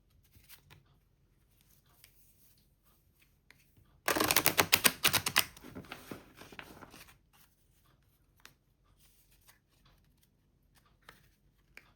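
A tarot deck is split and riffle-shuffled, giving a dense burst of rapid card flutters and snaps for about three seconds, then a few soft isolated card taps in a quiet room.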